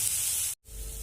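Soaked, chopped soybean chunks drop into a hot pan for veg chow mein, giving a loud, steady hissing sizzle that cuts out for a moment and then resumes.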